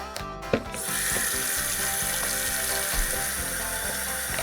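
Tap water runs steadily into a sink while a baby's cloth diaper is washed by hand, a loud continuous rush with small splashes and knocks of handling close by.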